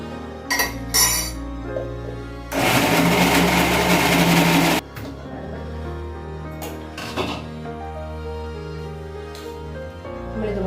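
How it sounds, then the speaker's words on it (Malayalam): A mixer grinder's small jar whirs loudly for about two seconds as idli batter is ground with a little water, surrounded by light clinks of utensils. "മിക്സിയുടെ ചെറിയ ജാർ യൂസ് ചെയ്യുന്നത് നമുക്ക് നല്ലതുപോലെ ഒന്ന് അരച്ചെടുക്കണം"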